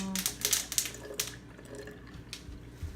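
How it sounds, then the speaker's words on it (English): Milk being poured over kefir grains at home, a soft liquid splash and trickle that is strongest in the first second and then settles into a faint, steady pour with small bursts near the end. "you pour 1 cup of milk over them."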